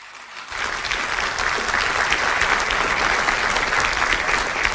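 Audience applause at a Turkish political rally for Palestine, rising quickly from near silence into sustained, dense clapping that holds steady throughout.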